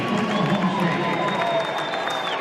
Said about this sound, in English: And a big cheer from the home crowd here in Tulsa for Oklahoma State's Tegan Jamieson.